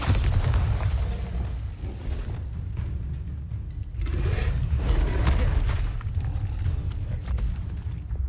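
A Bombarda blasting spell going off in Hogwarts Legacy, heard as a loud, sustained, deep rumbling explosion with booming bursts that swell and roll over the whole stretch.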